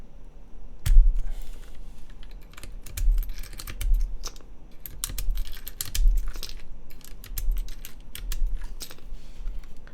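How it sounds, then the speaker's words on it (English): Keycaps being pulled off a TGR GSK 910 mechanical keyboard with a polycarbonate build, giving a steady run of sharp plastic clicks and rattles, close and fairly loud, with no talking. "So I'll have to take off my keycaps."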